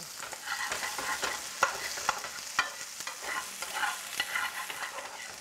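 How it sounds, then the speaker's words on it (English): Onions frying and caramelizing in oil in a pan give a steady sizzle, broken by repeated scraping and stirring clicks close by, with no one talking. "let the onions caramelize just a little bit"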